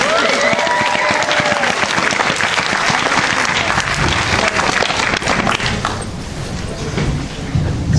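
An audience at a New York Comic Con panel applauds loudly and continuously, with dense clapping filling the hall for several seconds and a voice briefly audible in the crowd.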